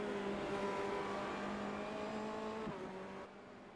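Race cars lapping the Nürburgring in a sim racing video game: a loud, sustained engine drone with steady tones that shift slightly in pitch, dipping briefly as if shifting, then fading somewhat near the end.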